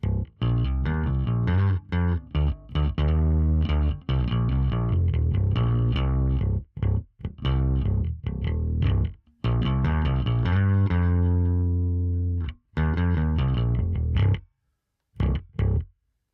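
Electric bass through a Line 6 Helix plays a melodic line with a warm, slightly overdriven vintage tone, notes ringing then stopping in short pauses.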